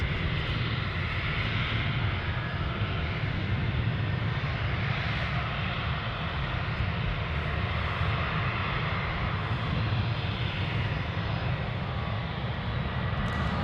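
An Alaska Air Cargo airplane at Anchorage airport produces a steady, loud, broad engine roar that holds evenly throughout, with no pauses.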